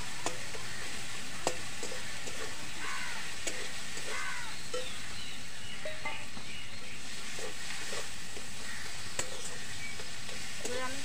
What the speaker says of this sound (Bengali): এবারে আমি সব কটা জিনিস কষিয়ে নেবো ভালো করে